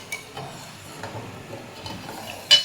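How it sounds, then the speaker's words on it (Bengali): A spoon stirs sugar in a pan for jalebi syrup, making a soft, steady scraping swirl that stays quiet and close, with a brief sharper clink near the end. "চিনিটা না গলা অবধি এটা নাড়তেই থাকবো।"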